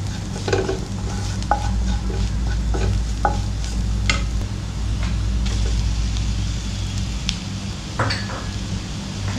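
Mashed potato being stirred into a sizzling masala in a pan, a spoon scraping and clicking against the metal at irregular moments over a steady frying hiss.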